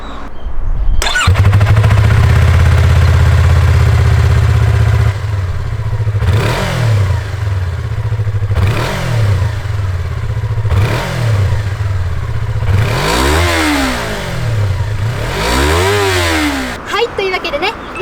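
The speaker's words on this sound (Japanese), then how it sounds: "それじゃあお次はねマフラー音を聞いてみましょう。" A Yamaha YZF-R25 motorcycle engine starts and idles loudly close by, then revs repeatedly in rising and falling sweeps of exhaust roar.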